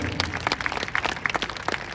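Audience applause at a large Hindi poetry gathering (kavi sammelan) held by a Rajasthan teachers' association: a steady patter of many hands clapping, moderately distant and filling the whole stretch with no speech.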